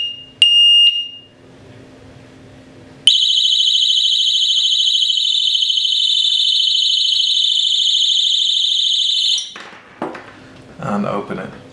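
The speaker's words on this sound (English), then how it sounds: "when I moved the shackle, basically it set the alarm off" An Oxford Boss alarm disc lock gives a short beep, then sounds a loud, continuous, shrill electronic siren for about six seconds before cutting off, followed by some handling noise.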